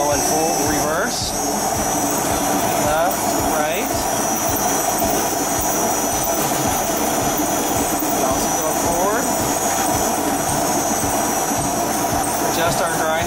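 An RZ RT3 remote-controlled, ride-on floor grinding machine runs with a loud, steady motor whine and a pulsing low grinding rumble, close and continuous throughout, with a voice faintly underneath.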